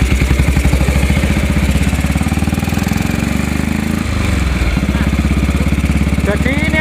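A vintage 1956 British-built Norton ES2 350 motorcycle engine with CDI ignition idles loudly and steadily up close, its rapid single-cylinder thump continuous with a brief stumble midway before settling back into rhythm.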